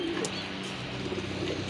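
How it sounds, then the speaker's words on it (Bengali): A Rajshahi Giribaz pigeon coos softly amid a steady murmur of other birds, a low, continuous, close sound with no speech. "এটা হচ্ছে আপনার রাজশাহী গিরিবাজ কবুতর।"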